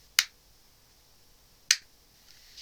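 Two sharp, isolated hand claps about a second and a half apart, heard through SBC-encoded Bluetooth earbuds, each a crisp, bright snap that decays quickly into quiet.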